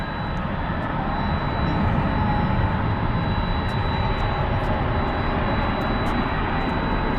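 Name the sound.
jet airliner at DFW Airport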